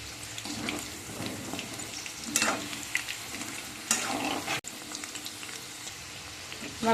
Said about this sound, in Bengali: পকোড়াগুলো এখানে ভাজা হয়ে গিয়েছে